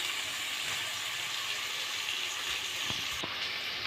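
Onions fry for biryani, cooking down until brown, in a soft continuous sizzle with faint bubbling and a couple of light clicks near the end.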